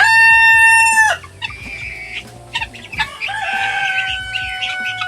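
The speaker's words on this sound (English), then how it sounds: "Look at those guinea fowl." Guinea fowl on a homestead farm call loudly in harsh, repeated rhythmic bursts, with a rising, strongly harmonic tone and stray chicken-like clucks mixed in, nearby and without talk.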